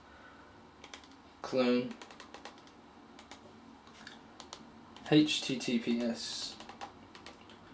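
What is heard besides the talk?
typing a git clone command on a computer keyboard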